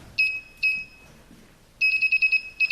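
A smart door lock sounds its alarm after three wrong codes are entered: two short high electronic beeps, a pause, then a rapid run of beeping pulses, clear and close against a quiet room.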